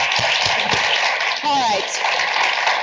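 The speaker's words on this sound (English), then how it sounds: "All right, another round of applause." Audience applause for a composer and a singer, a dense wash of clapping from a crowd that runs the whole time while someone talks over it.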